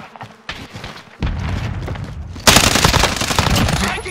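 Automatic gunfire from a Call of Duty Warzone match, loud bursts of rapid shots that grow denser and heavier partway through, with booming impacts layered over continuous combat noise.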